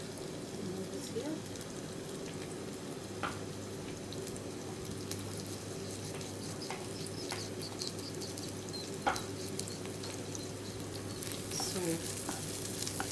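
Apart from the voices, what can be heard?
liver and onions sizzling while stirred in pan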